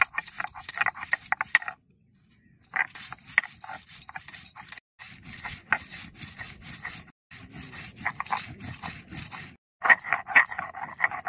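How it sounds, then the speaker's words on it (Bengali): Spices, ginger and onion are ground by hand on a grinding stone, making rhythmic back-and-forth scraping strokes in close bursts separated by short pauses. "এই সামান্য কিছু মশলা এখন নিপাস করে বাইটে নেবো।"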